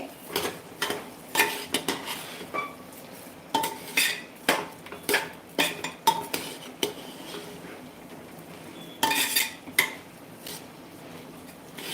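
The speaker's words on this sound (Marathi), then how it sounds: "आता हे सगळं मिक्स करायचं" Ingredients mixed in a bowl with a spoon, close and fairly loud, producing repeated clinks and scrapes of metal against the dish in uneven bursts with no talking.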